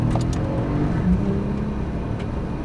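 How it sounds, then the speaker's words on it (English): Engine and exhaust of a twin turbo Porsche 911 on a racing track, a subdued steady low drone that holds level throughout with no distinct revving peaks. "The exhaust is extremely quiet on the twin turbo 911."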